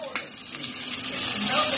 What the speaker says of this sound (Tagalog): Sutay muna natin yung bawang.